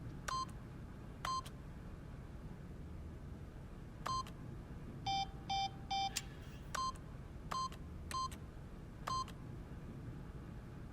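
Keypad beeps as a PIN is entered in The Stanley Parable, a series of short, clean electronic tones. They come singly, with a quick cluster of three in the middle, and stand alone over a quiet background.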